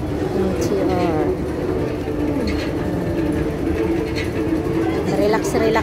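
Train at Causeway Bay station in Hong Kong, a steady low rumble of the moving carriages filling the background while someone talks over it.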